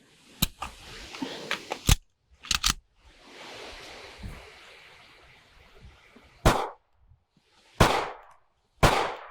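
Handgun shots fired one-handed at an outdoor shooting range, a quick string of sharp loud cracks followed by a pause and three more spaced single shots, close by, with no talk.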